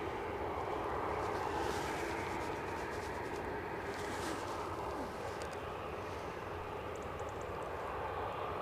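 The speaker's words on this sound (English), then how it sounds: "EasyJet just about to nose out onto the active, returning to London Gatwick" An EasyJet airliner taxis onto the active runway at Edinburgh Airport, its engines giving a steady distant whine and rumble with faint ambient noise, no talk.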